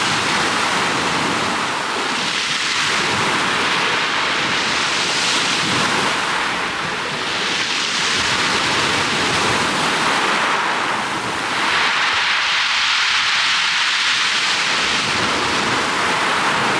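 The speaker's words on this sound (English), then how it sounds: "Wow, those waves." Loud ocean waves break and crash on a wild shoreline in steady, overlapping surges, a continuous roar of surf with swells rising and falling and no voices.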